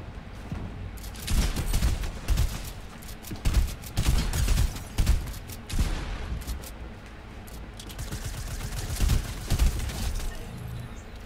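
Rapid bursts of video game gunfire in an arena duos match, fired in repeated volleys with short pauses between, loud and close, with faint voice chat underneath.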